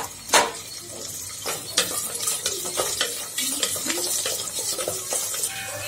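Small onions hit hot oil with a crackling sizzle, broken by sharp clicks and scraping as a utensil stirs the pan.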